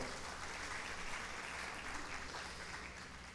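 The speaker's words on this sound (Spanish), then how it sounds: "Un aplauso nuevamente para ella, por favor." Audience applause for a guest at a panel session of a public directors' annual meeting, a steady, faint wash of clapping from a crowd, continuous and even throughout.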